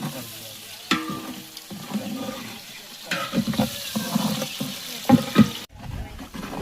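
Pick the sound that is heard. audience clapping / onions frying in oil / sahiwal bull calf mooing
onions frying in oil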